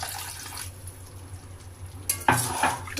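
Water is poured into a pan of fish heads and bottle gourd cooking for a Bengali lau ghonto; a quiet simmer gives way to a sudden splashing, sizzling burst near the end.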